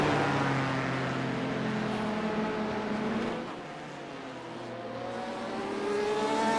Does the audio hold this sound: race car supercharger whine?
yes